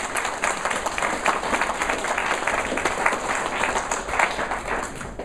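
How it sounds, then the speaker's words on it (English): Wedding guests applaud after a father-in-law's speech, a dense, steady wash of many hands clapping from the room, loud and continuous throughout with no talk over it. "I think he needs a clap for that."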